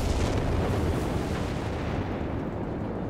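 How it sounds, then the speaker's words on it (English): A British 17-pounder anti-tank gun firing in Company of Heroes 3, a dense, continuous roar of heavy booms and rumbling battle noise throughout, loud and close with no talking. "17 pounder gun there firing away."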